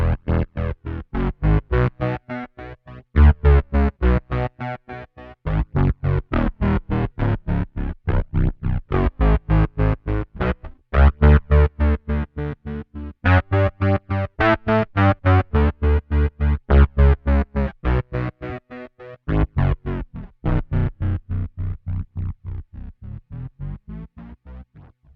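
Electric bass guitar through a tremolo pedal plays a line chopped into fast, even pulses, giving a synth-bass, sequencer-like throb that runs steadily and loud on its own.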